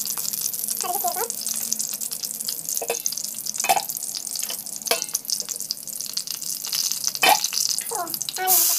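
Mustard seeds crackle and fry in hot oil in a home kitchen, a steady close sizzle with sharp pops and spatters scattered throughout.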